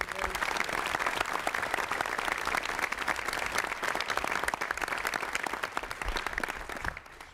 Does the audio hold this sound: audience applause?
yes